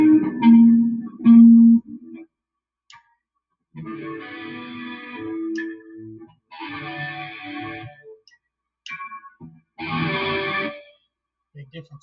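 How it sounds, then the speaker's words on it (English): Short bursts of distorted electric guitar from a Telecaster-style kit guitar, crunchy and buzzing with extra popping, separated by silent gaps, with a couple of quick muted plucks in between. "you're hearing all that extra popping noise because I've got the distortion and stuff on"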